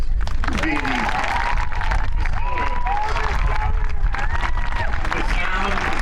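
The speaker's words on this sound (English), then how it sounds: "I'd like to give Miss Deidre Kelly a round of applause for being the" An outdoor crowd on a high school football field at an athletic awards event applauds and cheers steadily, with voices shouting and whooping over continuous clapping that stays loud throughout.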